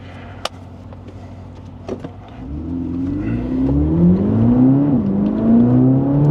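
A 2025 Chevrolet Corvette ZR1 on the Circuit of the Americas race track starts with a couple of sharp clicks, then its engine rises into a loud, close revving whine that climbs steadily in pitch.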